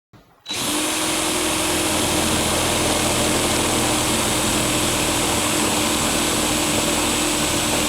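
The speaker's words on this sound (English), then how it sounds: "The drill's in reverse" A power drill running in reverse whirs to life after a brief pause and runs continuously at high speed, loud and close, with no talking.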